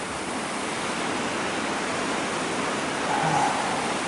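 The Salmon River rushes past in Pulaski, New York, a dense, steady roar of moving water filling the whole stretch without pause or voices.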